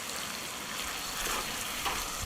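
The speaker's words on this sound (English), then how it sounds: "we're going to give all of that a good stir and let the tomatoes come up to temperature" Tomato lasagne sauce bubbling and hissing in a Dutch oven while being stirred, a steady close sizzle with faint scraping of the spoon.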